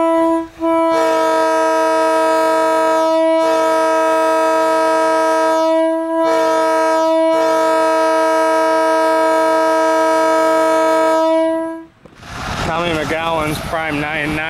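A loud, sustained horn blares in long steady tones with a few short breaks, then cuts off into a burst of noisy chatter.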